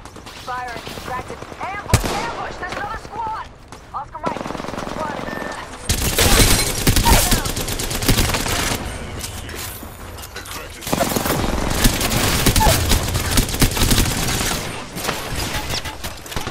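Gunfire in the Apex Legends video game: bursts of rapid automatic fire and single sharp shots, loud and near, with a voice speaking over parts of it.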